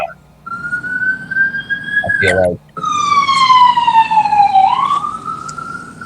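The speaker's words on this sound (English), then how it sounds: "An ambulance rides by along the street." An ambulance siren passes along the street, a loud wailing tone rising and falling that continues steadily, briefly broken by a short burst of speech before the siren resumes.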